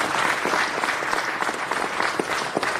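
An audience at a city council meeting claps in a sustained, fairly loud round of applause that stays full and even the whole way through.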